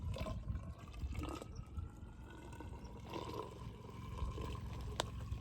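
Water pouring onto dry, hydrophobic garden soil, running off and splashing rather than soaking in; a steady, close liquid wash with trickles and gurgles throughout, no talking.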